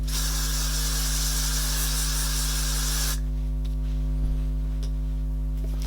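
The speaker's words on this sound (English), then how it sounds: "Yes, I did just spray hairspray all over my face." A loud continuous hairspray aerosol hisses for about three seconds, then stops, leaving a low steady electrical hum.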